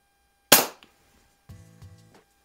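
A single sharp crack from a Ruger Mark 4 .177 break-barrel pellet pistol by Umarex, fired on a snowy night, then a quieter metallic ring and clatter as it settles.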